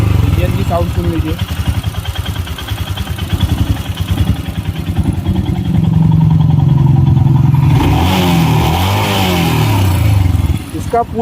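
Up close, a Royal Enfield Himalayan motorcycle idles with a steady thumping exhaust beat, then revs hard in a few rising blips before dropping back, loud throughout.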